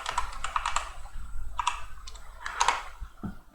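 Quick bursts of clicky typing on a computer keyboard, close and moderately loud, with short pauses between clusters of keystrokes and no speech.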